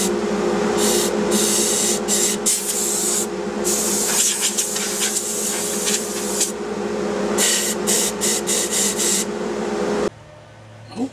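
An oak hollow form vase spins on a wood lathe at about 1200 RPM, a steady loud hum overlaid with rough, repeated scraping bursts from the cutting tool that stop abruptly near the end, leaving quieter motor noise.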